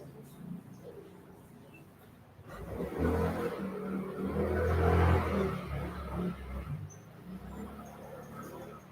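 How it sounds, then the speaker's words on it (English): Distant motorcycles drag racing near a residential subdivision rev and roar, swelling louder then fading, a low rumbling drone heard from some way off. "we got some motorcycles drag racing this morning"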